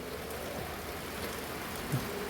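Soft, even patter of rain fills the short stretch, a constant hiss with a small bump near the end.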